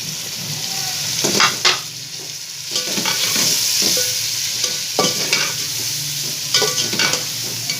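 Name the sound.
frying vegetables with tomato, red chilli, salt, coriander, turmeric masala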